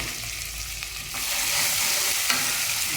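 Green chillies and onions frying in a pan while being stirred, a loud continuous crackling sizzle with scraping strokes, no voices.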